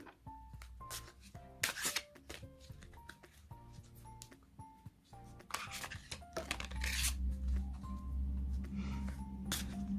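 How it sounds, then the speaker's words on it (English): Tarot cards being shuffled and riffled in repeated bursts, close and soft, with light tapping and faint background music. "give these cards a good shuffle"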